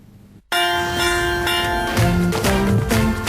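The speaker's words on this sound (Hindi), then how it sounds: "सुनो घंटी" A bell rings loudly and continuously, starting abruptly and holding a bright metallic ringing tone with some shifting lower pitches, with no talk.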